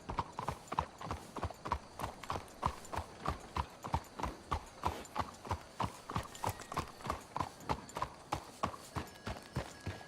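Horse hooves clip-clop in a steady, even walking rhythm in the video game Red Dead Redemption 2, close and clear with no talk over them.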